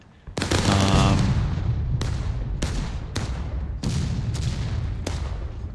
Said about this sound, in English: But this artillery is really going to start to be a menace for the Union team